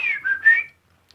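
A person's signature whistle, a short two-note rising and falling tune whistled clearly and close, followed by silence and a tiny click.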